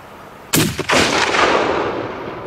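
A single loud hunting-rifle shot fired at a velvet stag in New Zealand, a sharp crack followed by a long rolling echo that fades slowly across open country.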